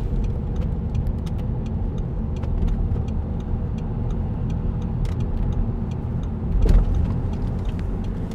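A 2008 Audi TTS Roadster 2.0 TFSI quattro with S tronic gearbox drives in sport mode, heard from inside the cabin as steady engine and road noise with a brief louder surge near the end.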